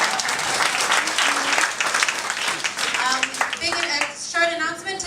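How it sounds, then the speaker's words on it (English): Loud, dense applause from a large audience at a 2014 comedy awards show fills the room, with voices and cheers rising through it toward the end. "Big round of applause."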